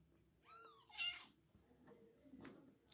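A cat meows faintly in a quiet room, one rising-falling meow followed by a shorter, weaker call over low background murmur.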